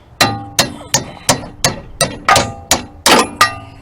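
About nine sharp metallic taps from a small hammer, evenly spaced and close, knocking the rear spindle out of a CB7 1990-1993 Honda Accord with the spindle held by pliers.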